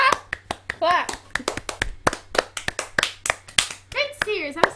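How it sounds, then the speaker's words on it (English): Hand clapping from a reaction stream of a singing-show grand finale, sharp claps in an irregular run over a few seconds, mixed with excited talking and a voice. "Okay. Clap."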